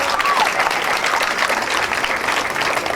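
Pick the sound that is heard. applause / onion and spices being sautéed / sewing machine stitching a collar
applause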